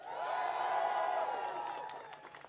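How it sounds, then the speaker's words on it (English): Rally crowd in Vancouver cheering and applauding a BC campaign team, a dense wash of whoops and clapping that swells, then slowly fades. "How about another huge round of applause for our amazing BC team?"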